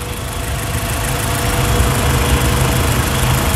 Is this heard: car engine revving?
yes